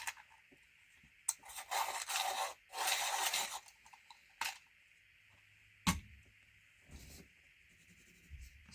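A colouring pencil is sharpened in short bursts of dry scraping and rasping, with quiet gaps and a soft tap between turns.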